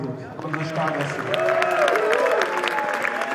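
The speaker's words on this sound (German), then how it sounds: "Und jetzt mal herzlichen Applaus für die beiden" Stadium crowd applauding two guest stars at a 40th anniversary rocker event at the St. Pauli stadium, steady clapping that swells after the first second and holds at a strong level with some talk mixed in.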